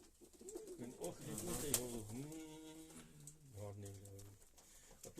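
A pigeon coos nearby in low, rolling repeated calls, with faint background noise.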